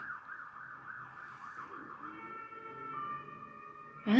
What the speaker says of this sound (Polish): coś się stało, bo jest więcej karetek i może straż pożarna?